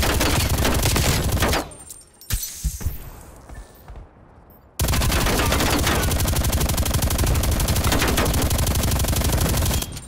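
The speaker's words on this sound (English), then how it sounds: "sentry turret detected in your AO" Sentry turret in a video game firing long sustained bursts, loud and dense, broken by a short quieter gap of scattered shots before the heavy automatic fire resumes for the rest of the clip.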